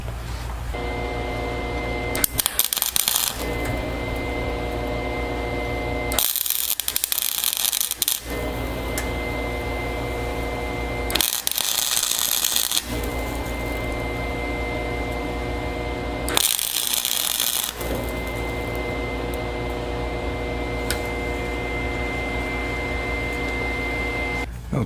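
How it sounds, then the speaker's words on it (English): Welding a nut onto a shaft on a 1959 Ford truck during rust repair: four loud crackling bursts of a second or two each, spaced through a constant droning machine hum. "I'm going to go ahead and weld it on"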